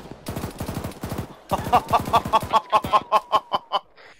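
Rapid bursts of machine gun fire in the military shooter Arma 3, close and loud, a short volley followed by a longer string of evenly spaced shots that fade at the end.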